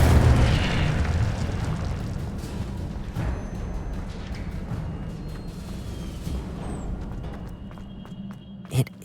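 A magical fire spell, Incendio, cast in the Hogwarts Legacy game: a loud, rumbling burst that opens the moment and then fades into a long, sustained roar, ending with a couple of sharp pops.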